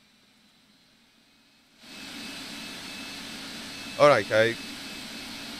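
A jet airliner's engines spool up for takeoff in the X-Plane flight simulator, rising from near silence into a steady roar, with someone talking briefly over it.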